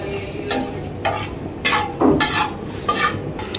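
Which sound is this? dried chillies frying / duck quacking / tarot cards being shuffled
dried chillies frying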